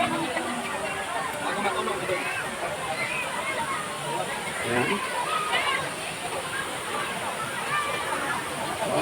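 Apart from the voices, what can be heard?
river water flowing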